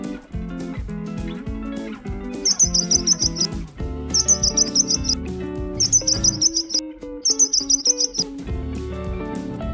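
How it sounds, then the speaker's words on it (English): A sparrow chirps in four quick, bright bursts of rapid tweets, spaced a second or two apart, over steady background music. "Sparrow."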